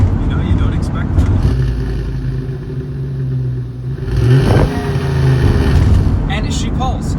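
A big V8 in a Chevy Express U-Haul moving truck revs and pulls, its engine note surging loud inside the cab while people talk over it.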